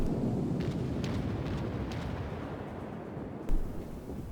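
Battleship guns in World of Warships, aboard the Yamato, boom as a deep rumble over steady sea-battle noise, with one sharper, louder report near the end.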